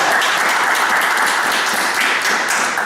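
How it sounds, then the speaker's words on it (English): Audience applause at a forum on athletic scholarships, a dense, steady wash of many hands clapping at close range that holds loud and even for about three seconds with no voices. "Let's give a round of applause to you."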